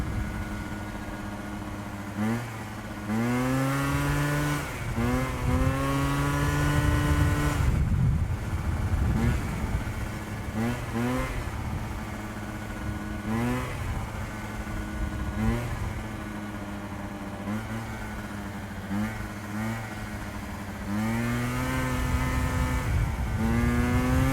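A Yamaha Jog 70cc two-stroke scooter ridden wide open, its buzzy engine rising and falling through repeated revving sweeps and gear-like surges, loud and close from the rider's position, with wind rumble underneath.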